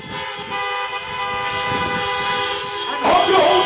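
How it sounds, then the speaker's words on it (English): Many car horns honk together at a drive-in menorah lighting, a loud sustained chorus of overlapping tones, with a voice over the PA and the honking swelling louder near the end. "if you can hear me well, honk your horns."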